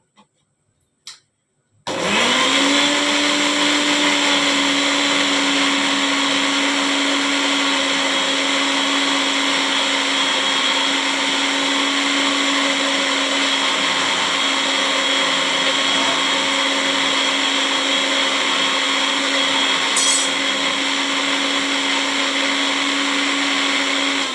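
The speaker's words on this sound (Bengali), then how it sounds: "পোস্তটা বেটে নিলাম" An electric grinder whirs steadily and loudly for over twenty seconds while grinding poppy seeds into a paste, after a brief click as it starts; no one speaks.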